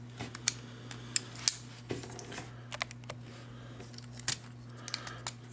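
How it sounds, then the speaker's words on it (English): Plastic clicks and snaps from a Transformers Revenge of the Fallen Voyager-class The Fallen action figure as its arms are detached in robot mode, several sharp close taps spread over a few seconds against a steady low hum. "First, we're just going to detach the arms here."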